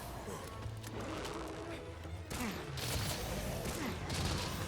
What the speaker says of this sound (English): Getting a bunch of wyvern blasts on the face of a monster, then shooting them with piercing or shrapnel and just exploding.